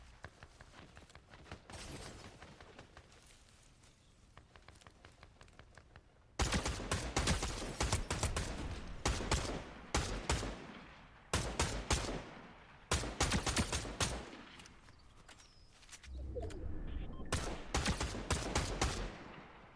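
Bursts of Enforcer rifle fire in Fortnite, a quieter stretch of distant shots giving way to loud, rapid volleys separated by short pauses, with no talking.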